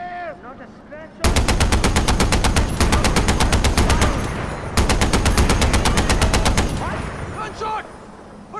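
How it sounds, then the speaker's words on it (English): Rapid automatic gunfire from a Far Cry 4 firefight, two long loud bursts of machine-gun fire with a short gap between them, followed by scattered shots and game voices. "Gunshot! But from where?"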